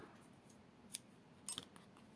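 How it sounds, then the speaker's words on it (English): Scissors snip through crochet yarn at the end of a tiny baby hat, two quick faint clicks about half a second apart in an otherwise quiet room. "cut the yarn"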